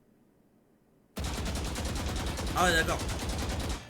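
Sustained automatic gunfire from a weapon in the video game Valorant, a loud continuous burst held as a full magazine is fired from the hip, starting abruptly after a quiet lead-in while a voice speaks briefly over it.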